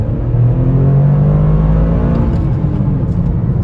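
A Toyota GR Corolla pulls hard in second gear, its engine note climbing steadily under load in a loud, close, continuous rise that eases near the end.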